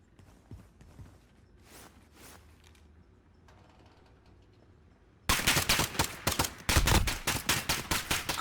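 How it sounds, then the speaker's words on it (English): Video game gunfight with a drum-magazine weapon: faint mechanical clicks, then loud rapid bursts of automatic gunfire that repeat in fast volleys. "Shots coming out with that drum mag"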